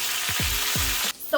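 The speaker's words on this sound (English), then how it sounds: "Our oil is nice and hot, so I'm gonna go ahead and add our cheese." Pieces of Nicaraguan queso frito cheese drop into hot oil and set off a loud, close, bubbling sizzle that cuts off sharply near the end, followed by a small clatter.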